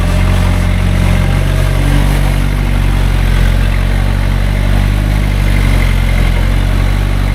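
A custom LN106 high-steer truck sits in place spinning its tires to heat them, giving a loud, continuous engine roar with steady revving and churning noise throughout.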